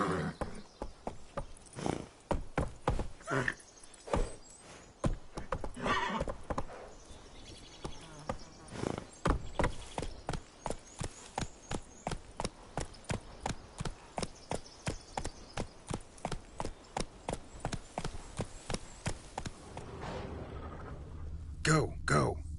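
Roach, a horse in The Witcher 3 video game, gallops in a steady rapid clip-clop of hooves that runs through most of the stretch, mixed with game sounds and talking voices.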